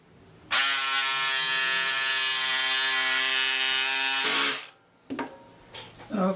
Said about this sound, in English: So I'll be cutting out the lining and the fabric together